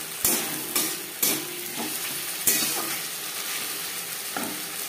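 Silver carp pieces fry in a pan as they are stirred, a steady loud sizzle broken by a few sharp scraping knocks of the spatula against the metal, close up with no talking.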